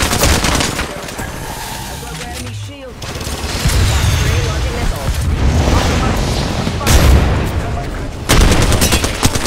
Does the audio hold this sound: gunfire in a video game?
yes